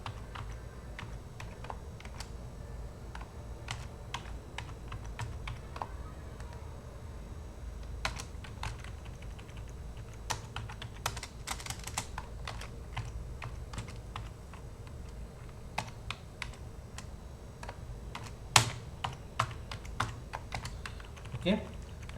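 Code is typed on a computer keyboard in quick, irregular bursts of soft key clicks. Occasional louder taps come through over a low background hum.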